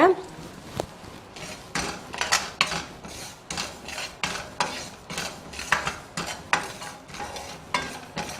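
Ajwain and cumin seeds dry-roasting in a pan, stirred with repeated scraping strokes of a spatula in a steady rhythm, close and fairly loud, with a faint sizzle beneath.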